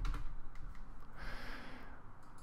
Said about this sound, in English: you're going to go to Google and you're going to type in line clipping